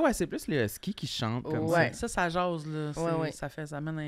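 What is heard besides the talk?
None of the usual background noises is heard.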